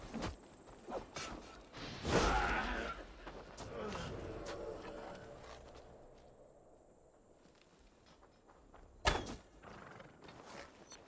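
Horse in Assassin's Creed Valhalla clip-clopping at a walk with a neigh, game ambience and whooshes mixed in, fairly faint overall.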